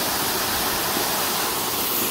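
Bridal Wreath Falls near Tucson, a small waterfall with a light flow of clear, cold water, giving a steady, dense rushing hiss close by, with no voices.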